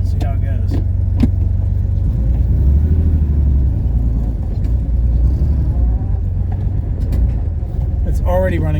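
A 1970 Porsche 911T on a street drive, its engine giving a steady, loud low rumble throughout, with a few brief clicks and knocks on top.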